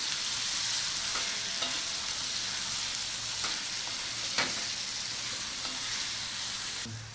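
Eggplant masala with fresh coriander being stirred in a frying pan: a steady close sizzle of frying with scattered scrapes and knocks of the spoon, no talking.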